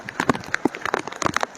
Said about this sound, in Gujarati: વરસાદ ખૂબ જ ભારે વરસી રહ્યો છે